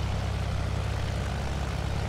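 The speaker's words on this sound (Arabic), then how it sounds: "في واحد في طيارة في طيارة جاي" A military propeller airplane in the Battlefield 1 video game produces a steady, loud engine drone with a heavy low rumble, continuous and unchanging throughout.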